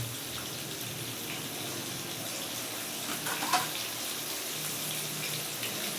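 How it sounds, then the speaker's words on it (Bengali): Eggs frying in a pan give off a steady, even hiss that runs the whole time with no pauses and barely changes in loudness, with one brief small click midway and no voices. "এই যে দেখেন আমার ডিমগুলোকে সুন্দর মতো ভাজা হয়েছে"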